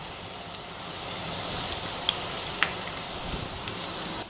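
Chow chow being sautéed with salt in a pan for chutney gives a steady, soft sizzling hiss throughout, with a couple of faint clicks partway through and no talking.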